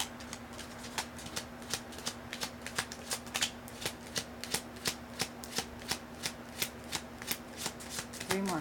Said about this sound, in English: 3 more cards.